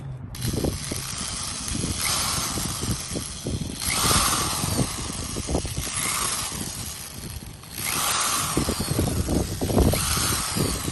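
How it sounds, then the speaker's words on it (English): A power drill with a 3/16 bit whirs in a few bursts of several seconds each, drilling mounting holes into a hard wall at close range, with mechanical clicks between runs. "I'll drill each one out."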